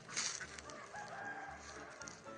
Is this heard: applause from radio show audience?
no